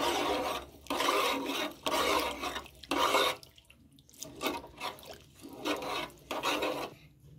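Tomato rice is stirred in a pot, a spoon scraping and rasping against the bottom in repeated strokes, some long and some short, close and loud with no voices.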